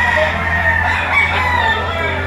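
Roosters at the Lipa City auction market crow and cluck nearby, loud and overlapping, against a steady hum of crowd noise with someone talking throughout.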